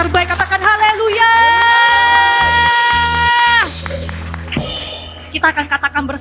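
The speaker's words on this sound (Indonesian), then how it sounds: "Berikan tepuk tangan terbaik, katakan haleluya." A church congregation at a Sunday worship service raises a loud, sustained collective shout of praise lasting a few seconds, then fades into murmuring voices and a leader's speech; clear clapping is not distinct.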